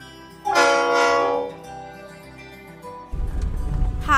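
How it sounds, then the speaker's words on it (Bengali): A train departing Howrah for Digha on a foggy winter morning sounds a loud, sustained horn blast that fades, followed by the low rumble of the train rolling along. "হাওড়া থেকে ট্রেন এগিয়ে চলছে আমাদের দীঘা যাত্রা।"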